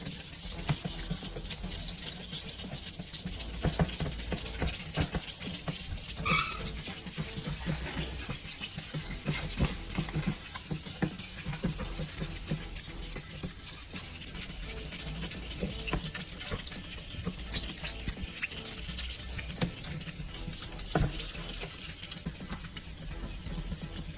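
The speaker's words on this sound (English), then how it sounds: "Start sanding the surface in the same way as before." Continuous wet rasping scrub of sandpaper rubbed back and forth over a car headlight lens, close and steady throughout.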